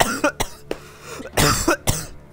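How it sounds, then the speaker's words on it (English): Close, loud coughing from someone who drank seltzer water too fast: several sharp bursts in quick succession, with a few throat-clearing hacks between them. "I just drank seltzer water too fast"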